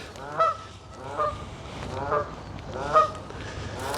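Repeated goose honks ring out at fairly even intervals, about five calls, moderately close against a quiet outdoor backdrop at old mooring posts in Runcorn.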